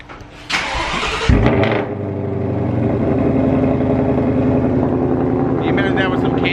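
A 2020 Shelby GT500 engine cold-starts up close with a sharp starter whir and a loud bark, then settles into a loud, steady high idle rumble.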